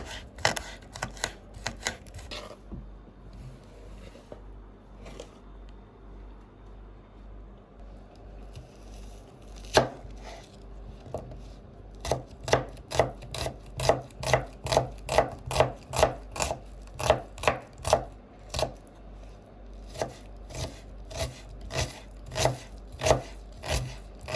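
Fresh mint being finely chopped with a knife on a board: scattered cuts at first, then a fast, steady run of crisp close knocks.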